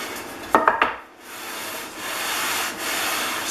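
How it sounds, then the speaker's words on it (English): A Stanley No. 33 jointing plane's metal body rubbed over sandpaper in long strokes, a soft scratchy hiss after a few sharp clinks of metal at the start. "sand the flat surfaces like you'd lap metal"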